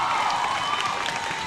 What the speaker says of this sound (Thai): ปรบมือให้น้องแดนเซอร์ดังๆหน่อยแล้ว